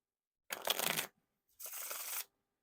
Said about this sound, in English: these are definitely made for doing wiffle shuffles and bridge shuffles